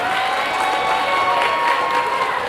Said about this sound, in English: One more round of applause for all our musicians tonight.